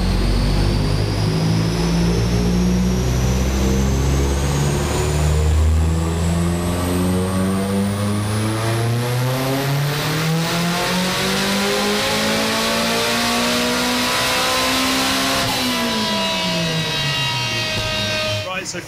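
A turbocharged race engine running a race map on a dyno revs hard and continuously, its droning tone climbing steadily, peaking, then dropping away near the end, loud and close throughout.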